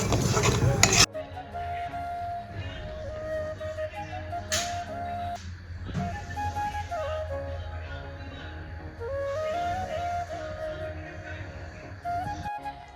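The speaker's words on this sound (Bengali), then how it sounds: "খুব ভালো করে এটাকে ভেজে ভেজে একদম ড্রাই করে নিতে হবে গ্যাসের ফ্লেমটা হাই থাকবে এটাকে এখন নাড়াচাড়া করতে হবে" Spinach with garlic and mustard seed tempering being stirred and fried dry in a pan over a high gas flame, with steady utensil scraping and clinks over a low burner hum.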